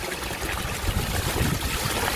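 Water trickles and splashes from a DIY venturi pipe beside a pot at a garden koi pond, a steady, close, broadband rush with no talk.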